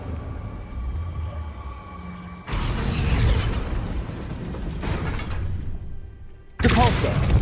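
Depulso spell cast in Hogwarts Legacy: a sudden loud whooshing burst of force cuts in over a low game ambience, then a second sharp magical blast erupts at the end.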